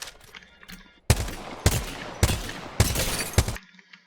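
Rapid gunfire in the Apex Legends firing range video game: four loud bursts of shots in quick succession, each a dense volley of blasts, heard alone with no talking.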